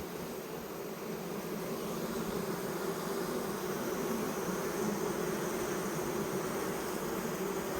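Honeybees swarming away from their hive fill the air with a dense, continuous buzzing drone, close and unbroken, with no voices over it.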